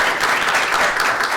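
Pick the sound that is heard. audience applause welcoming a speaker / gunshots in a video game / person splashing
audience applause welcoming a speaker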